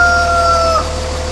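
A single long rooster crow from the video game Farming Simulator 2013, with a tonal, slightly synthetic quality, holding steady then cutting off, over a constant low background hum.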